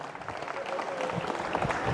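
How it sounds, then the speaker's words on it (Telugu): An audience at a hospital event in Vinukonda claps for the doctors, giving a dense, sustained round of applause that sounds moderately distant and holds steady throughout. "ఒకసారి గట్టిగా చప్పట్లు కొట్టి వారందరికీ అభినందనలు తెలియజేయాలని నేను కోరుతున్నా"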